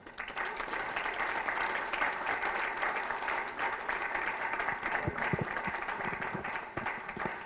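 Audience applause following a talk at an energy industry lecture and forum, a steady sustained clapping from a large room that carries evenly through the whole stretch.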